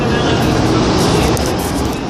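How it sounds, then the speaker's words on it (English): Loud, broadband roadway rumble from a car passing close by, heard near a D train stop, filling the whole stretch with steady noise and swelling slightly toward the middle. "That was like a car."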